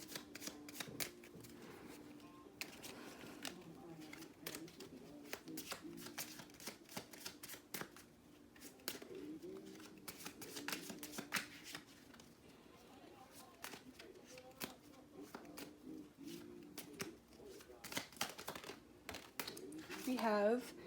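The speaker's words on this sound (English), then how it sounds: "I'm going to get a Bob Ross card to wrap up this reading." A deck of oracle cards is shuffled during a tarot-style reading, giving a steady run of soft riffling and card flicks throughout, close to the mic with some faint background sound.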